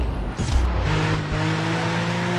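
A car in Driver San Francisco, a steady, loud engine roar with a brief burst and tire noise early on, then a constant revving drone.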